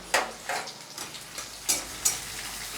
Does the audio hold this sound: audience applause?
no